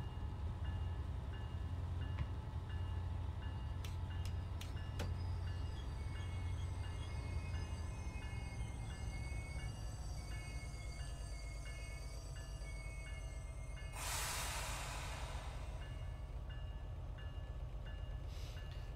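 A commuter train on the MBTA line from Boston to Providence in Train Sim World 5 pulls into a station, with steady rail rumble and wheel noise, a few short clicks and a brief hissing burst near the end, no talking.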